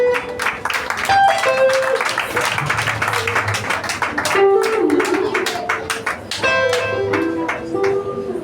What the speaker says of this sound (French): applaudissez-nous pour la gloire de Dieu.